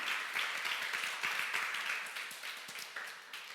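A church congregation applauds before God after thanking volunteers, a faint, distant patter of many hands clapping steadily and slowly tapering off.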